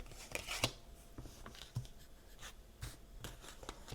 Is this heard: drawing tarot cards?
yes